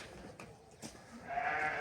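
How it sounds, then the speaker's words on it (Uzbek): Kyrgyz breed sheep on a farm let out a bleat: a short wavering cry near the end follows a quieter stretch of faint animal noise and shuffling, with no talking. "Qirg'izli qo'ylar akalar."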